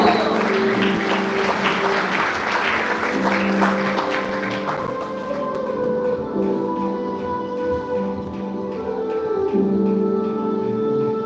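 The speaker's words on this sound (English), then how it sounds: "Let's give her another round of applause." Applause from an audience at a Hare Krishna Namahatta gathering, a dense steady clapping for a woman returning to the stage that fades after about five seconds into sustained background tones and murmur.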